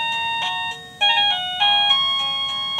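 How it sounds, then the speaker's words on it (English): Portable wireless doorbell chime playing a short cowboy-style melody, bright electronic tones in a bouncy sequence of notes, fairly loud and close with no talking. "This one sounds like a cowboy theme."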